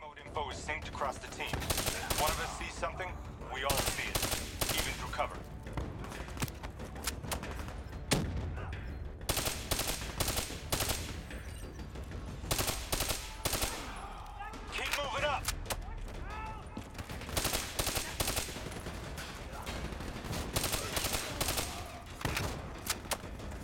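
Rapid bursts of automatic gunfire and single shots from Call of Duty Black Ops 3 crack repeatedly and loudly throughout, in dense rhythmic volleys with short gaps, while a voice speaks in between.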